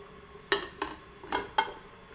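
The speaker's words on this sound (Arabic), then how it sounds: "نحطوا اللحم" Meat being added to a pot for couscous: four sharp clattering knocks against the pot at irregular intervals, close and moderately loud over a quiet background, with no talk.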